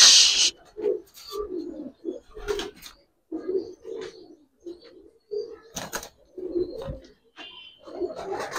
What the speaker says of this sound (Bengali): ছাড়াছাড়ির জন্য বেস্ট হবে কবুতর দুটা।